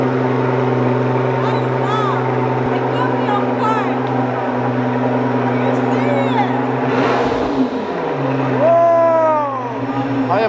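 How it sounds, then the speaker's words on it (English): A Pagani supercar's engine starts and settles into a loud, steady idle with deep humming tones, then swells into a brief rev near the end while people talk nearby. "it's quickly time to turn on the Pagani"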